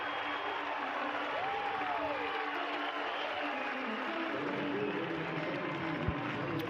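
College baseball crowd at an NCAA regional game between Tennessee and Clemson cheering and applauding a strikeout, a broad sustained roar of applause, distant and fairly faint, with a voice calling out briefly.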